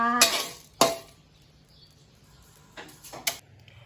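Roasted eggshells are scooped from a pan into a bowl: a few separate scraping, clinking bursts of utensil against metal, close by, with near-silence between them.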